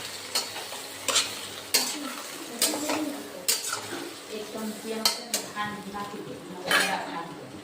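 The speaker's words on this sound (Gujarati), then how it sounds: "હવે એકવાર આપણે હલાવી લઈશું" Stuffed brinjal masala, Kathiyawadi style, is stirred in a pressure cooker, giving repeated scraping clinks of a spoon against metal with a faint sizzle underneath, several strokes spread evenly over the stretch.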